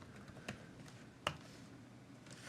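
Computer keyboard keys tapped during a .NET coding session, a few sparse, quiet clicks with two sharper strokes standing out over faint room noise.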